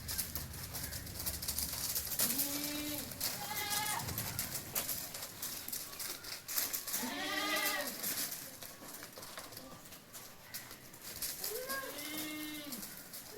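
Goats bleat several times, drawn-out wavering cries spread across the recording, fairly close, over a steady background hum.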